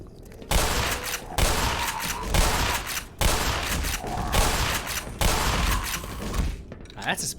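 Pistol gunfire in a video game comes in several loud bursts of rapid shots separated by short gaps, with people talking between and over the volleys.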